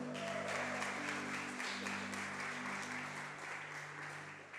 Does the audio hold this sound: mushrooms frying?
no